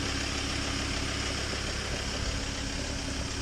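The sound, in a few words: Ford Ranger engine running while stuck in mud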